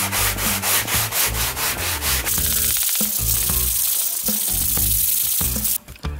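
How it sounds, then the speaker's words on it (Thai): Sandpaper rubs steadily across a foam RC airplane wing fitted with inserted wood strips, a loud, close, rhythmic scratching of repeated back-and-forth strokes with no talking. "เดี๋ยวเราจะขัดไปเรื่อยๆนะครับจนกว่ามันจะเสมอกับปีกนะครับ"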